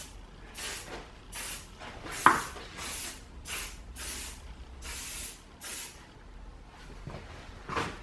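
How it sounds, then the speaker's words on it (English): Repeated short bursts of polish sprayed onto a dirt bike's plastics and carbon fiber, about eight evenly spaced hissing squirts close up, with a faint knock partway through. "You just simply spray it on to the bike"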